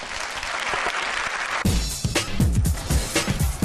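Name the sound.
audience applause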